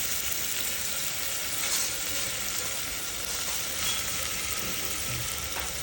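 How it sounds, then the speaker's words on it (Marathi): Finely chopped garlic, coriander and onion frying in hot oil, a loud, continuous close sizzle throughout with faint occasional stirring. "आता हे चॉपरमध्ये बारीक केलेला लसण, कोथिंबीर आणि कांदा एकत्रच करून घेतलेला आहे बारीक. छान मस्त तेलामध्ये आता ब्राऊन होऊ दे."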